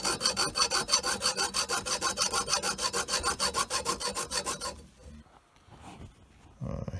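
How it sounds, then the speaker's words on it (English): Hacksaw cutting through peened-over metal tabs on old sealed KKT bike pedals: about two dozen quick, rhythmic back-and-forth rasping strokes, close and loud, then a pause with faint handling noises and a brief resumption. "Here I'm just using the hacksaw to attempt to grind away at these peened over tabs that are holding the pedals together."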